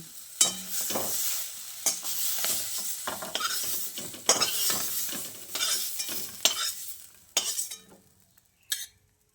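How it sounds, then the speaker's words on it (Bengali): Lightly charred fried flat beans are scooped out of a wok in a run of metallic scrapes and clinks against a faint sizzle, with short pauses between scoops. "এবারে এই ভাজা শিমটাকে একটা পাত্রের মধ্যে তুলে নিচ্ছি"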